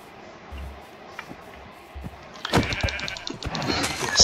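Sheep bleating in Minecraft, short quiet bleats early on, then a denser burst of louder bleats and game noise in the second half, with no speech.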